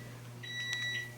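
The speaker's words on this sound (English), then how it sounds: "there's our timer" A kitchen oven timer goes off while macaroni and cheese bakes, giving a short run of high electronic beeps over a steady low hum.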